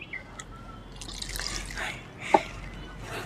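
Water poured onto the soil around a freshly transplanted periwinkle plant, soft trickling and dripping close by with a small splash, fairly quiet over light background noise.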